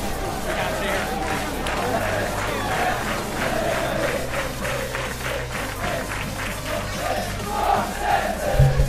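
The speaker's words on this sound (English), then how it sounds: "You can't beat the crowd at the Cork City game." Football crowd at a Cork City match against Shamrock Rovers, a steady roar of many voices with rhythmic chanting pulses throughout, loud and continuous from start to finish.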